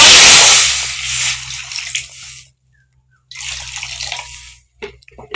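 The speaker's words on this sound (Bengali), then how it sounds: "এবার কড়াতে খানিকটা জল দিয়ে দেব" Water poured into a kadai cooking pot over a lit clay stove, a loud splashing gush that tapers off, a short pause, then a second softer pour, close by.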